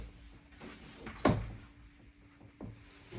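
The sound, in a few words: IKEA PAX wardrobe door rubbing when closed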